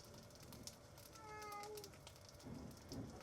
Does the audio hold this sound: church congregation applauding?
no